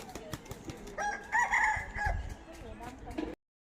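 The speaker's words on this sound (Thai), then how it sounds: "เป็นไก่ป่าด้วยค่ะ" A jungle fowl crows near a mountain shrine and cave market in Lampang, Thailand, a single clear call in the middle of the clip over background chatter and outdoor noise.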